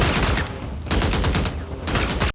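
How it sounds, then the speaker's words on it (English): Heavy gunfire in an action film scene, rapid bursts of automatic shots crackling in quick succession, loud and close, with a brief gap before another burst cuts off abruptly. "Paxton and Lailaj continue moving, this time under heavy gunfire"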